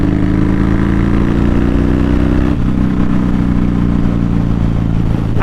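A motorcycle engine runs loud and close with a rough, throbbing tone, the pitch shifting partway through as the throttle is worked, with no voices.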